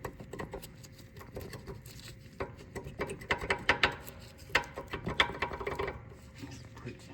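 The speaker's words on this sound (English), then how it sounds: "I usually pry on the pad to relieve some pressure" A tool prying on a rusted rear brake pad of a GTR wagon to push back the caliper, giving close, irregular scraping and metallic creaks and clicks in uneven bursts.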